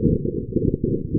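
Sonified EEG brainwaves of deep N3 sleep at 2 Hz make a low, muffled, rumbling throb with slow pulsing swells, steady and dark, without any voices.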